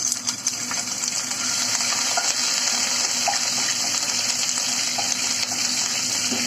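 Minced garlic fries in hot oil with a steady, close sizzling hiss that holds evenly throughout, with a few faint pops and crackles.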